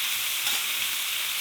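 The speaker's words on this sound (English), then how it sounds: "They're like, oh my God, it's Fred cooking bacon" Bacon sizzles and crackles steadily in a frying pan, a dense continuous hiss with no voices over it.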